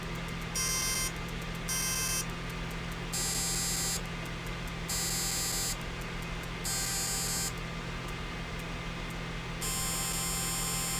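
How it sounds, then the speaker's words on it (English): Homemade distance back-up alarm sounding as a string of high electronic beeps in uneven bursts, some short, some about a second long, over a steady low mains hum. "And so now we have a distance alarm."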